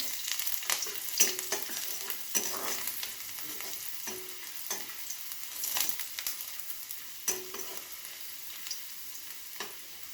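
Carrots and potatoes fry in a pan with a little mustard, a faint, continuous sizzle broken by soft stirring scrapes and taps, with no talking.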